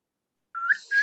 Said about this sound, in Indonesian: Iya, coba bersiul siapa yang bisa?